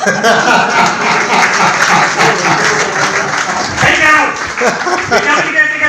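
An audience at a Hindi poetry gathering breaks into sustained applause, a dense wash of many hands clapping with a few chuckles and voices mixed into the crowd noise.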